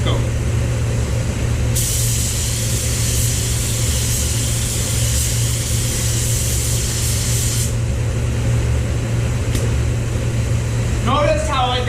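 Paint spray gun laying down a final light control coat on a car body panel, a loud hissing burst of several seconds over a steady low compressor drone, then stopping, with speech near the end.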